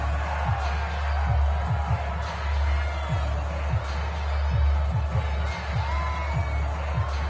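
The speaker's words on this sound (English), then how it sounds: "How about some applause for the defense there?" A stadium crowd in the Madden NFL video game cheers as a steady, broad roar throughout, with a low rumble and a commentator's voice present underneath.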